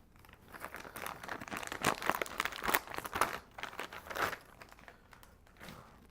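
Plastic packaging around hex PDS lines crinkles and tears as it is cut open, a close, quiet series of crackling rustles that fade near the end.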